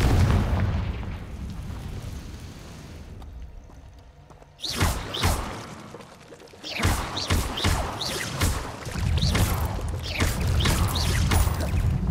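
Confringo blasting spell explosions in the game Hogwarts Legacy: several loud booming bursts in quick succession, with rumbling debris and crackle between them, no voices heard.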